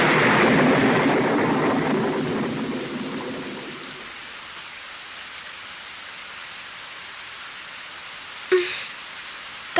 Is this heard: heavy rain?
yes